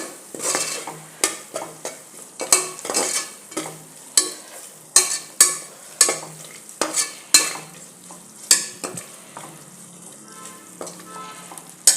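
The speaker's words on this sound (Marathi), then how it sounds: "एकसारखं हलवायचं नाहीतर दही फुटतं तर असं व्यवस्थित मिक्स करून घेते" Curd being stirred into egg biryani masala in a pressure cooker, with repeated scraping strokes of a spoon against the metal over a soft, steady sizzle; no talking.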